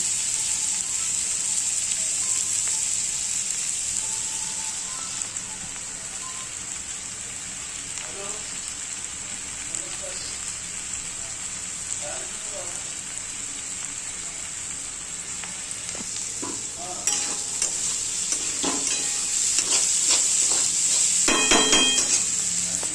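Potatoes fry in oil for a Maharashtrian poha with peas, giving a continuous loud sizzle with patters and crackles that build toward the end.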